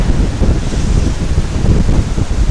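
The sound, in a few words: wind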